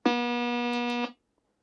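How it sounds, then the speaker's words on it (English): A bright, buzzy synthetic tone sounds alone at a steady pitch and level for about a second before stopping abruptly. "if you play a sawtooth, it may sound like this"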